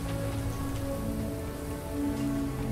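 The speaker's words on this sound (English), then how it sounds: "It's raining, it's foggy, it's miserable, it's muddy." Steady, dense rain falls on a foggy, muddy mining farm area in the video game Starfield, a continuous close hiss of drops under a low tonal game hum.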